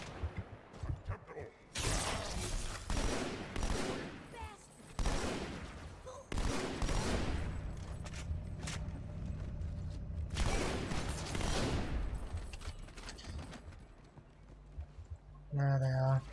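Plasma rifle fire in the Halo 2 campaign, rapid bursts of repeated energy shots in long stretches separated by brief gaps, loud and dense, with someone talking over parts of it.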